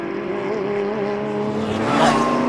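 A loud classic race car engine snarls close by at Jarama circuit, its pitch rising and falling as it revs, with a brief squeal near the end.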